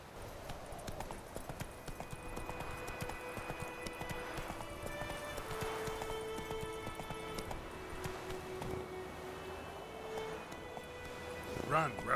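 Horse galloping in The Witcher 3 video game: rapid, steady hoofbeats run throughout at moderate volume beneath game music, with a brief vocal call near the end.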